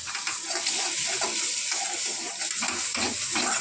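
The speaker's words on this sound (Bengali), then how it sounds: "এবার চিনি দিয়ে এবার এটাকে আমরা নাড়তে থাকবো।" Pointed gourd peel paste with sesame and sugar is stirred in a hot pan, giving a steady sizzling hiss broken by repeated scraping strokes of the spoon, close up and with no talking.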